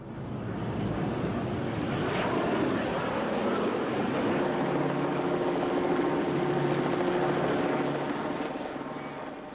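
Military and civilian aircraft flying over Sydney Harbour, a loud sustained engine roar and droning buzz swelling and holding for several seconds as planes pass overhead, with propeller-like throbbing tones.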